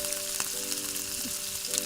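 Chopped onion and green chili fry in a pan for chili chicken, a steady soft sizzle crackling throughout with a faint tonal hum behind it.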